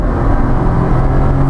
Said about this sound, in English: Don't forget, it's only a 3-cylinder 550. And we're accelerating nicely.